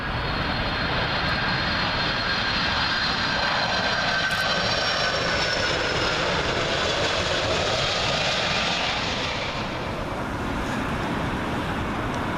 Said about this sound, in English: Up next, Delta 767 coming in from Atlanta